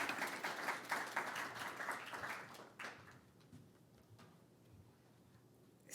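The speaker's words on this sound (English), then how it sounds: "Please give a round of applause" An audience at an academic lecture applauds, dense clapping for about three seconds that then thins out into scattered claps and fades.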